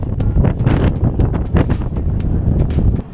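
Strong gusts buffet and rattle a large booth tent at an outdoor RV rally, a loud continuous roar with flapping fabric surges throughout.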